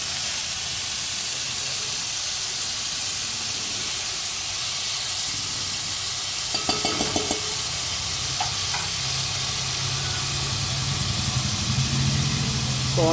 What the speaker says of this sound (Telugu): ఇలా మగ్గినాక ఇప్పుడు కట్ చేసుకున్న టమాటాలని కూడా వేసుకొని కొంచెం సాల్ట్ చల్లుకోవాలి పైన.